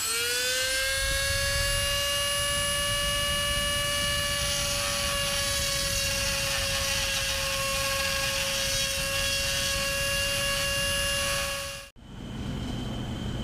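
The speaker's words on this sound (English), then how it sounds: "So after messing around with the Dremel for a bit" A Dremel rotary tool grinds steadily into an aluminum part from a Caterpillar D2 multi-piece assembly, a loud, sustained high-pitched whine that holds a constant tone for about twelve seconds before cutting off abruptly.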